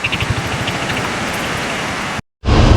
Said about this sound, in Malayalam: മഴ പെയ്തോണ്ടിരിക്കുകയാണ്